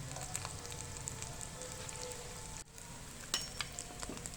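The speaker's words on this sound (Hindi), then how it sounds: "मज़ीद आपने चम्मच के साथ घुमाते हुए इसकी साइड जो है उनको चेंज करते जाना है ताकि ऊपर वाली साइड जो है वो नीचे जाके अच्छी तरह से पक सके।" Okra and minced meat fry in a pan while a spoon stirs them, a soft steady sizzle with faint scraping clicks, fairly quiet and continuous.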